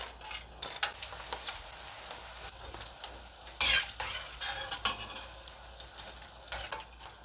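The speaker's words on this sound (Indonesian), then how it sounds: "Waktunya aku mau goreng ya." Steady frying sizzle of meatballs in a pan, with scattered clinks and scrapes of a utensil against the pan, close by, with one louder clatter midway.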